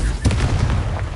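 Confringo spell blast in Hogwarts Legacy, a short, loud, noisy explosive burst with a booming low end and a crackling tail, lasting about a second.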